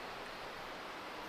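Distant traffic on Highway 401 heard as a steady, faint broadband rush with no distinct vehicles, a continuous low hiss like wind or water.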